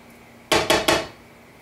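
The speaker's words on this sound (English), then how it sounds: "using a spoon, scoop out all of the flesh out of your avocado into your guacamole bowl" A spoon scoops ripe avocado flesh into a guacamole bowl, three quick scraping knocks in a row, fairly close and clear, followed by a faint tap.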